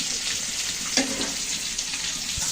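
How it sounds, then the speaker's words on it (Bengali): Eggs fry in oil seasoned with turmeric, a moderate continuous sizzle with a few small crackles and one brief clatter near the middle, heard alone without voices. "তো ডিমটা অল্প করে ভেজে নেওয়া হয়ে গেল"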